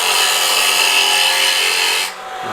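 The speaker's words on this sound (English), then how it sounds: "I'll use my spindle gouge, put that tenon on" A spindle gouge cuts a tenon on a piece of wood turning on a lathe, giving a steady, close hissing scrape that stops abruptly near the end and leaves a softer whirr.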